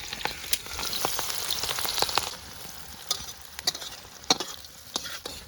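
Onions fry in hot oil in a wok over an outdoor cooking fire in a forest, a steady sizzle broken by sharp stirring scrapes and clinks at close range.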